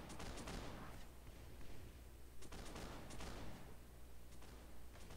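Massed musket or gunfire volleys ring out across a battlefield in Mount and Blade: Warband, a dense, continuous crackle of many shots, fairly faint and distant, with brief louder bursts.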